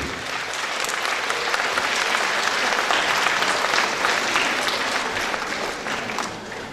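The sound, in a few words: audience applause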